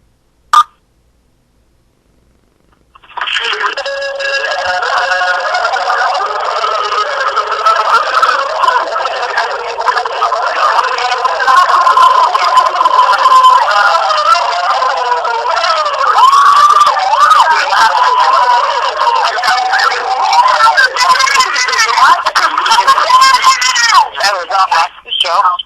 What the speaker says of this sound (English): listen to thousands of people trying to talk at the same time